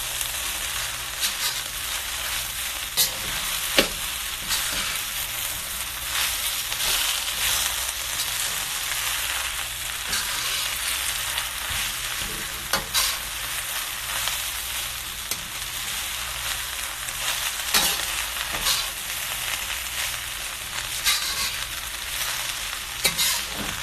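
Leafy greens stir-frying in a hot wok, giving a loud, continuous crackling sizzle, with scattered clacks and scrapes from tossing and stirring throughout, and no voices.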